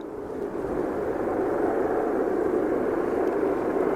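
An airliner on approach to Aberdeen Airport gives a low, steady engine drone that swells slightly at the start and then holds evenly at moderate loudness.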